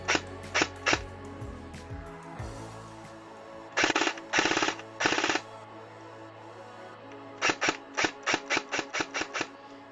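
Thompson M1A1 airsoft gun on an 11.1-volt battery, firing short full-auto bursts: a few quick shots, three rattling bursts, then a run of rapid separate shots, close and sharp with no talking.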